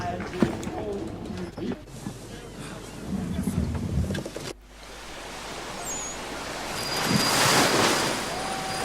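Ocean waves in the video game Assassin's Creed 3, heard as a steady wash of surf and wind noise during a sea voyage, swelling louder toward the end, with someone talking over the first half.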